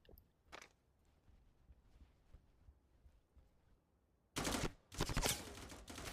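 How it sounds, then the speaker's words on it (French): Gunfire from a weapon on a training range in the VR shooter Forefront: after several seconds of near silence, a few loud, dense bursts of shots crackle close by with brief gaps between them. "Pour l'instant, on va se faire un peu de shooting."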